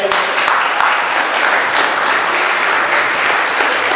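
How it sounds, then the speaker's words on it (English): An audience applauds in a dense, steady wash of clapping that stays loud and continuous for several seconds, with no voice clearly above it. "give him a round of applause again"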